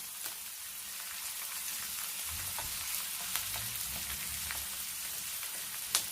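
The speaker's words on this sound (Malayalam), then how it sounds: "ഇത് നല്ലെണ്ണയിൽ വറക്കാൻ ഇഷ്ടമില്ലാത്തവർക്ക് വെളിച്ചെണ്ണയിൽ തന്നെ വറുത്തിട്ട് വീണ്ടും അത് അച്ചാറാക്കുമ്പോൾ നല്ലെണ്ണയിലിടാം" Pickle ingredients frying in coconut oil make a continuous crackling sizzle with scattered sharp pops, a low stirring rumble in the middle and no speech.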